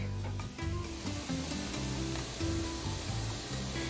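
Garlic and onions fry in a pan for beef and potato flautas, giving a steady close sizzle that holds at an even level throughout, without speech.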